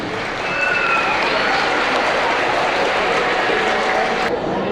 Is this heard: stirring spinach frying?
no